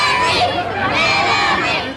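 A large, loud crowd of fans chanting and cheering Lizzie McGuire's name at a Hilary Duff event, a dense continuous roar of many voices shouting together.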